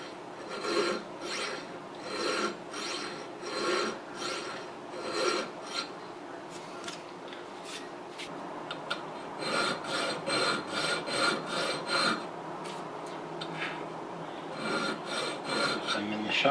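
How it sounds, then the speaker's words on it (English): A hand file rasps back and forth on the steel trigger guard undercut of a 1911 pistol, in steady rhythmic forward strokes with brief pauses, close-up and with no talking. "As I'm rounding, I'm tilting the file to the back."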